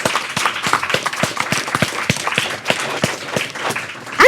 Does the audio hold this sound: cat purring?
no